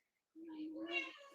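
A single drawn-out house-cat meow rises and then trails off, close and fairly soft, after a brief moment of quiet.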